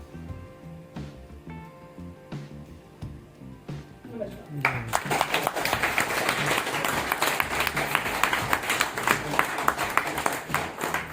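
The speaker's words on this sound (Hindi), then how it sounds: "मैं चाहूंगी कि एक बार और 2 बार तालियां हो जाए हमारी अभिनेत्री के लिए।" An audience applauds an actress after a stage performance of a Hindi play: quiet talk and a few scattered claps at first, then sustained, dense clapping from a crowd.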